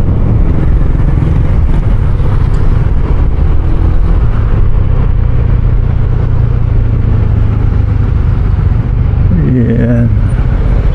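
Dense road traffic heard from a moving Honda Beat scooter, a loud continuous roar of engines and wind rumble with a brief rising engine whine near the end.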